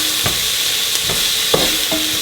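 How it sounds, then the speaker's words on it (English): Vegetable curry sautes in a pan over high heat, a steady close sizzle broken by a few soft stirring scrapes and clinks. "And so let it saute."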